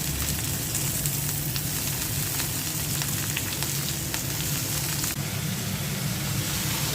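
Greens hit hot oil with garlic and green chilies while river fish cooks with tomato, giving a steady close broadband sizzle that holds throughout with a brief rise in hiss near the end.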